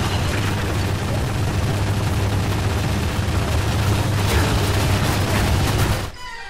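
Dense, sustained gunfire from a helicopter in the video game Quantum of Solace, a loud continuous barrage with a low steady drone underneath, running for about six seconds before cutting off abruptly.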